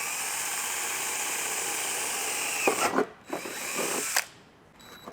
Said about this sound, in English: So we'll go ahead and drill both of these out.